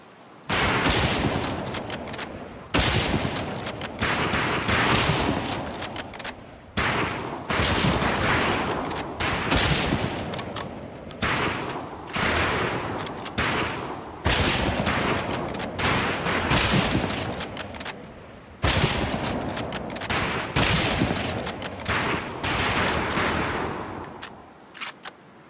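Rifle volley on a firing range in Medal of Honor: Pacific Assault, with loud, dense overlapping gunfire. Shots come in sustained bursts broken by a few brief pauses, alone and without talk.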